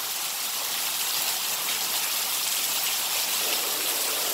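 Heavy rain pours off the edge of a tiled roof, overflowing the eaves in a dense, steady rush of falling water, loud and close, unbroken for the whole stretch with no voices.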